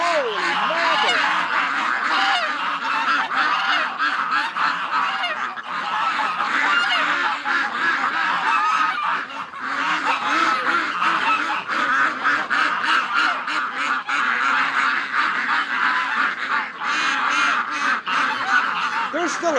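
A crowd of rescue ducks in a winter pen honks and quacks continuously, a loud, dense, overlapping chorus that stays up close for the whole stretch, with a voice briefly mixed in.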